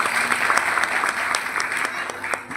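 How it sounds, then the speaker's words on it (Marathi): Audience applause at a folk bharud performance, a dense, steady round of clapping from a crowd, close and lively, with scattered louder individual claps standing out throughout. "एकदा टाळी."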